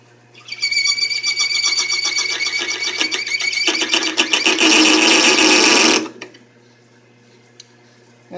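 A machine tool bit cutting oiled stainless steel, giving a loud close squealing, chattering whine for about five seconds that grows harsher near the end, then stops and leaves a low hum.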